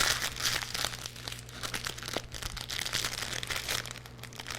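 A resealable plastic bag of computer parts for an X99 PC build crinkles and rustles steadily and close up, a continuous crackly handling sound with no talking.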